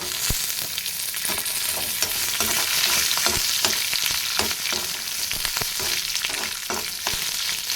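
Urad dal and dried red chillies fry in hot oil in a pan, a steady bright sizzle punctuated by regular scraping knocks of stirring, close and continuous with no talk.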